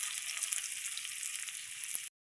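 Dried red chilies, torn by hand, frying in a pan, producing a bright continuous sizzle for about two seconds that cuts off abruptly into silence.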